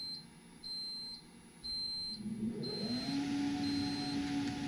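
Alarm on an APC UPS unit, a high pure-tone beep sounding in short repeated pulses, then a lower rising hum as cooling fans spin up, near and fairly quiet, no talk.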